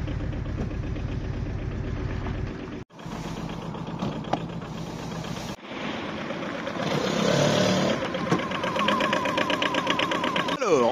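A Kubota Z482 Euro 4 diesel engine in a 2022 Aixam GTO microcar runs steadily close by with a rough, chattering idle that grows slightly louder partway through.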